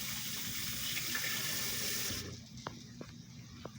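Running kitchen tap as hands are washed mid-cooking, a steady close rush of water for about two seconds that cuts off, followed by a few light drips and clicks in the basin.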